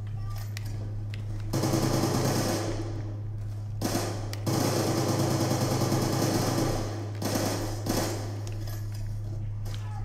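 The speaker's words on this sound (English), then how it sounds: "Is that a three round burst gun?" Gunfire from a burst-fire weapon in Call of Duty Black Ops comes in several rapid clusters of shots separated by short pauses, loud and close, over a low constant hum, with some talking mixed in.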